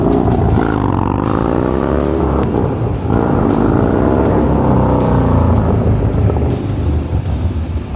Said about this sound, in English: As you started revving it more, you're spinning a little bit more.